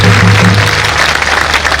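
A rally crowd applauds to welcome Rajya Sabha MP Shaktisinh Gohil, loud dense clapping mixed with a low amplified hum, continuous through the short span.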